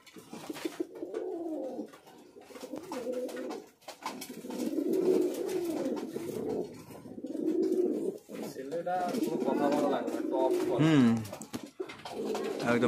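Fancy pigeons in a home loft coo in repeated low, throaty phrases, several birds close by overlapping one another with brief pauses between bursts.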